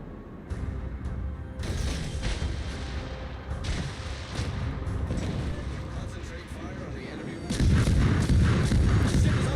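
Torpedoes blow up an enemy destroyer in a naval combat game, with repeated heavy booming blasts and dense rumbling gunfire that swells into a louder barrage near the end.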